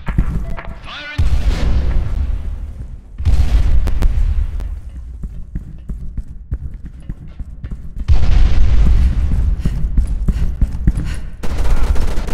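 Grenade explosions in the online shooter Special Force 2: several heavy, loud booms land a few seconds apart amid rattling gunfire and battle noise, with no clear talk.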